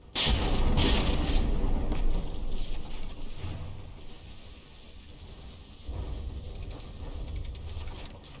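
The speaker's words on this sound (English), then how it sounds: "Those mortar hits doing a number on the Defiance here." Mortar shells strike a battleship in the naval combat game From The Depths, a loud rumbling barrage of booms that thins to a lower roar and then swells again, with no one speaking.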